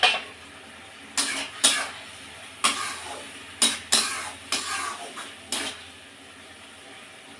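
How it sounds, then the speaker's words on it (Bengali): A metal lid being lifted off and set back on a cooking pot of papaya and lentil dumplings in a home kitchen, a series of sharp clinks and scrapes spaced across the stretch, close and fairly loud. "আমি ঢাকনাটা তুলে নিচ্ছি।"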